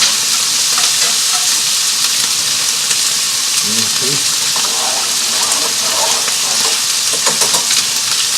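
Mushrooms cooking down in a hot pan while steak is prepared for a gnocchi dish, giving a loud, steady, close sizzle with crackling spatters and occasional stirring throughout.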